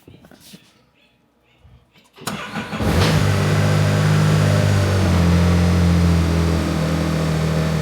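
Can-Am Maverick R engine cranking and firing up on a new EVO tune after quiet handling noises, then settling into a loud, steady idle with a deep low rumble.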